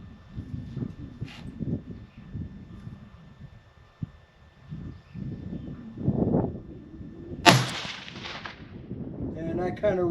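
A single suppressed rifle shot from a 6.5 PRC fired at a range while zeroing, a sharp loud crack near the middle followed by a short decay, with low rumbling talk before and after.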